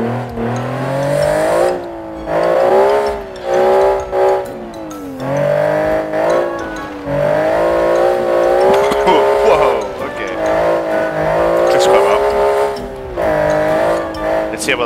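Turbine-powered 1986 Group B rally car with heavy turbo lag, engine note rising and falling loudly and continuously through gear changes and throttle swells, with tires squealing at moments and no voice over it.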